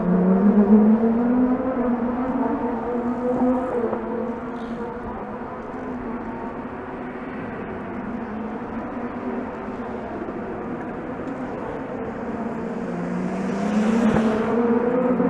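Honda Indy race cars circle a downtown Toronto street circuit along Lakeshore, heard from a distance as a steady, continuous engine drone that swells slightly near the end, with no talking.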